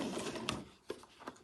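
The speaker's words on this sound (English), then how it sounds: "So I'm just going to sew around the edge there." A sewing machine stitches around the edge of a fabric tab, with a soft mechanical whir and a few faint rhythmic clicks, quiet and close with no voices.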